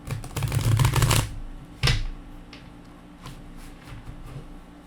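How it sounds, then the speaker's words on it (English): A tarot deck riffle-shuffled up close for about a second, then a sharp tap and a few faint card movements. "I'm going to shuffle my tarot deck 3 times"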